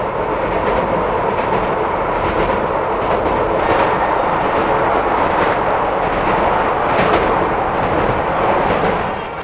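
A long-distance passenger train crosses the long rail bridge over the Son River, a loud, steady rumble with rhythmic clickety-clack of wheels on the rails throughout, heard from onboard without talking.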